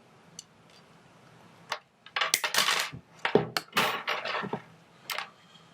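A bar being cut to length for a feather headpiece gives a run of close metallic clinks, taps and scraping bursts, irregular and fairly loud, then a final sharp clack.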